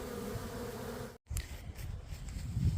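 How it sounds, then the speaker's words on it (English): Honey bees buzz steadily around a hive during feeding with sugar water, a continuous close drone with a brief dropout partway through, then bees can be heard coming and going with no talking. "you can see the bees are definitely coming and going"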